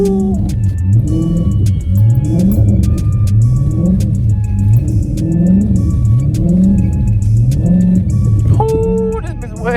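A car engine revs loudly and repeatedly while driving through snow during a snowstorm, rising and falling in steady waves of close, strained roaring that fill the whole clip before a brief drop near the end.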